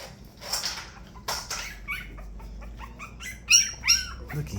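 Small puppies from a young litter yip and bark in short, high bursts with whimpers between, close by and fairly loud, with no talking over them.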